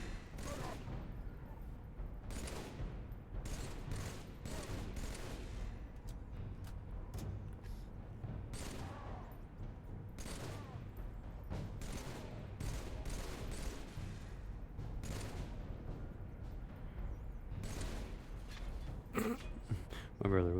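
Battle rifle fire in Halo 3, an ongoing exchange of sharp shots and bursts of varying loudness over a steady background hum across about twenty seconds, with some faint voice under it.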